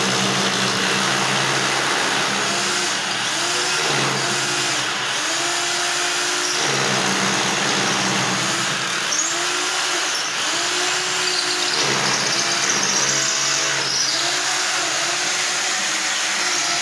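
Electric drill machine boring into a wall to fit a wash basin, a loud continuous whine that rises and dips in repeated bursts as the bit bites, close by with no talk.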